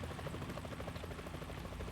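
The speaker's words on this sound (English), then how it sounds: "Is that a chopper I just heard?" Helicopter flying in Metal Gear Solid 2, a steady rotor chop with a rapid rhythmic pulse, faint and distant, heard alone.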